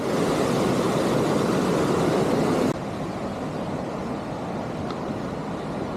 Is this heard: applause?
no